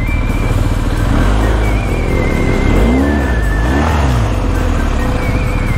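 Several off-road motorcycles climb a steep dirt slope at an off-roading park, engines revving loudly and continuously with rising and falling pitch, up close and dominating throughout.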